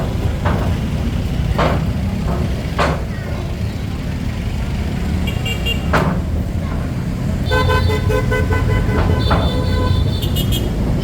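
Busy rush-hour street traffic in Manila, Philippines, with engines rumbling, a few short horn toots and a longer multi-tone horn blast cutting through the steady road noise.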